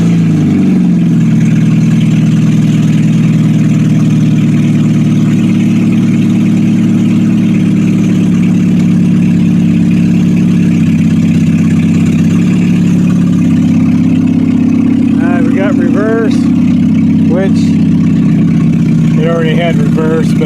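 A 2008 Chevy Cobalt engine with a JB Weld–repaired clutch band oil pipe runs steadily throughout, a loud low idle hum with a slight rise in pitch partway through, plus brief squeaky tonal sounds near the end.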